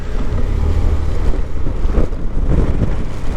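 Strong wind buffeting a moped rider on a windy day, a loud low rumbling roar with gusty surges throughout, no talk.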